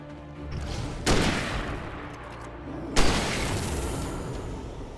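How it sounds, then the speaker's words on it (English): Two heavy hunting rifle shots from Alan Wake, a few seconds apart, each a loud sharp blast that rings out and decays slowly over a constant rumbling game background. "This hunting rifle is the real deal. I just shot this guy."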